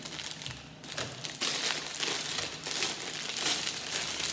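Thin plastic bags crinkle and rustle continuously at close range while a Lego Brickheadz Pets set (40543, St Bernard and pup) is unboxed, with steady crackling bursts and no speech.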